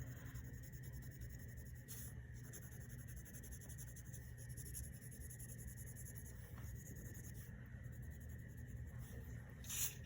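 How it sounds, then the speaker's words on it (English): Faint, steady scratching of a regular pencil shading across paper, a continuous soft rub that runs on without pause, close but very quiet against low background hum. "take my regular pencil and just shade in the edge of the light spaces."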